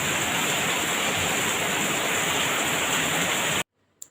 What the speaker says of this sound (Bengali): খুব জোরে বৃষ্টি নেমেছে, খুব জোরে